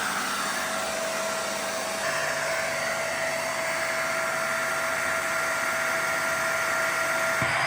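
A Vax SpotWash carpet cleaner runs its self-cleaning cycle with a steady, loud motor whine and airy suction hiss, holding constant throughout with a slight step up in pitch partway.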